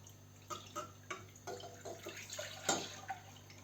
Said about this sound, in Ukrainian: вливаємо тут пів літру молока